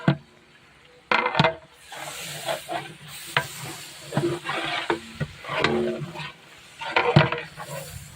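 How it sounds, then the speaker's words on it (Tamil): Chicken biryani masala being stirred in a pot after salt goes in, with repeated scraping strokes and clinks of a spoon against metal over a steady sizzle, close and fairly loud, no talking. "உப்பு சேர்த்துட்டு நம்ம கிளறி விட்டுடலாம்."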